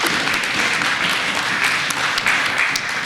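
An audience claps at the Jashn-e-Adab 2019 literary festival, a steady, dense wash of applause filling the whole moment without a break.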